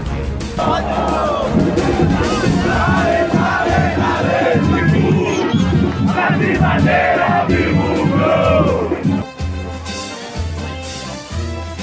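Náutico football supporters in a large crowd chant and cheer loudly and continuously, a dense roar of many voices that eases slightly near the end.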